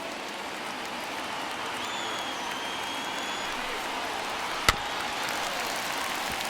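A large stadium baseball crowd in MLB The Show 21 cheers and roars as a steady, broad wash of noise, with a single sharp crack partway through.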